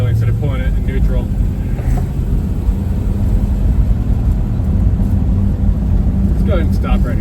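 A 1950 Oldsmobile 88 Rocket with a three-speed manual gearbox rolls along in second gear, giving a loud, constant low engine rumble and road noise from inside the car, with brief talk over it.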